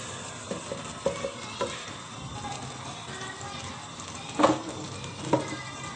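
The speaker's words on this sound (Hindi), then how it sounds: "ये देखें टमाटर जो है इसमें ऑयल में डाला है, कितना प्यारा ये भून रहा है।" Tomato paste fries in oil for beef biryani, a steady soft sizzle with a few stirring scrapes and clinks, two louder spoon knocks near the end, close and alone with no talk.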